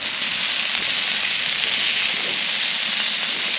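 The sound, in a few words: brown butter drizzled on flounder sizzling on Blackstone griddle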